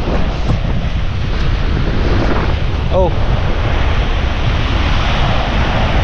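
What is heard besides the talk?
strong wind on the coast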